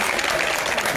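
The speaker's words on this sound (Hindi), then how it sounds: "तो सभी लोग जरा जोरदार तालियां बजाएंगे।" Audience applause at an Igas 2022 cultural programme held with disaster-affected children, a brief burst of dense, steady clapping from the crowd.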